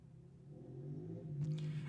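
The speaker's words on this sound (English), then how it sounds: "someone outside is just deciding that they want to sit out there and keep revving up the engine on their motorcycle" A motorcycle revving somewhere outside the room, a low droning engine rumble that builds in the second half, faint and distant with no voices.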